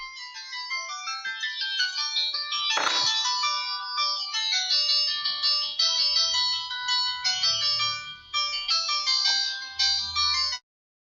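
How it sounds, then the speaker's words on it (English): A phone ringtone plays a loud, bright melodic tune for about ten seconds, signalling an incoming call, with a brief rustle partway through before it stops. "Someone is phoning me. Let me take this call."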